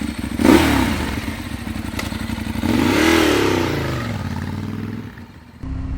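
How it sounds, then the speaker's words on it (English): Ducati liter-class superbike engine revving out on the road, a rough mechanical drone that rises and falls through two throttle swells with clattering undertones, fairly close and loud, then briefly dipping before picking back up. "why don't we take the Ducati out real quick and see how fast it is in the real world"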